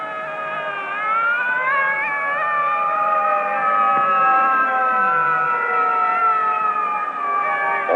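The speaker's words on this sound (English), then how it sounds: "The siren shrieks, "Clear the way, here come the firefighters."" Fire engine siren wailing continuously in a rising and falling tone, loud and close, with no talk over it.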